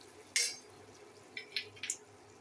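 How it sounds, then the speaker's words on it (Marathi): A spoon scraping and clinking against a pan as masala spices are stirred in during home cooking, a few brief sharp metallic taps with quiet gaps between them, close and without talk. "मसाला टाकला ते असं हलवून घ्यायचं."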